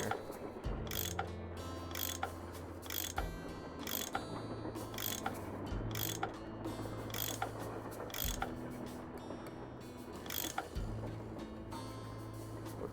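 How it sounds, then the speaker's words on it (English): A ratchet tool clicks rapidly in repeated bursts while unscrewing bolts in the Nancy Drew game Last Train to Blue Moon Canyon, the pawl's ticking layered over a low mechanical hum and heavier clunks between turns. "I bet that's what you used to unscrew these bolts"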